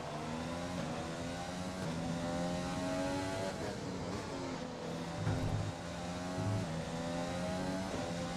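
Formula 1 race car in F1 2020 at the Canadian, Austrian or British Grand Prix, its high-pitched engine revving up and down through gear changes in a steady loud whine, with no voices.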